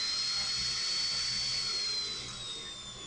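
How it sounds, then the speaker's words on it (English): High-pitched whine of a drill running at speed while working on a flower embedding piece, steady and loud, with a sustained tone that drifts slightly and eases off a little near the end, no talk. "All right, we're going to take the drill. It might override my voice."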